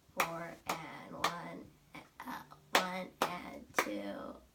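Sharp, separate hand claps from a student tapping out a rhythm during a piano lesson, spaced unevenly, with a teacher counting aloud over them.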